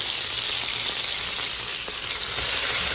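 Curry frying in a pot at a Sri Lankan farm house, a close continuous sizzle and crackle with faint stirring scrapes throughout.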